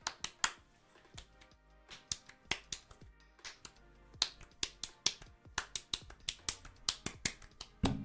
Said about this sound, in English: The little clapping.